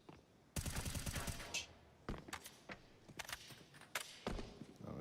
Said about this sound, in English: it's a Tech-9 versus an M4